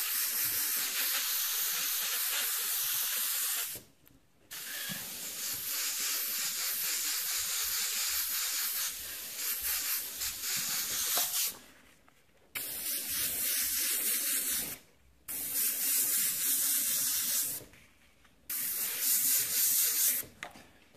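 An airbrush sprays paint in long steady hissing bursts to clean up overspray on a beginner custom mural, each burst cutting off into brief near-silence before the next, with no talking.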